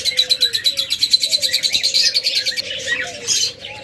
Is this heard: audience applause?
no